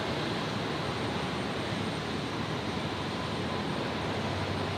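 Broad, steady roar of a Saab aircraft at Brisbane Airport, loud and unbroken with no pauses, with no voices over it.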